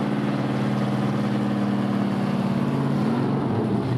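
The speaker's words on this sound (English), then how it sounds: "firing up their engine, it is Bobby Isaac's 1970 Dodge Hemi" Bobby Isaac's 1970 Dodge Hemi 426 race car with winged aerodynamic front end, its engine running close and loud at a steady rumbling idle throughout, with a slight rise in pitch near the end, at a muscle car show.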